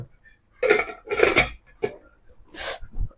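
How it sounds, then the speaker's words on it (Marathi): Several sharp metallic clangs and knocks from a steel pressure cooker, in irregular bursts with short silences between, close by. "स्टीलचा कुकर असल्यामुळे जास्त भासत"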